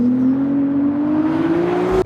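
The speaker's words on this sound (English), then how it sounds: "I just started the engine up." A Ferrari 296 GTB Assetto Fiorano engine running just after startup, a steady low drone with a tone that slowly rises in pitch, heard from inside the cabin and ending in a short sharp click.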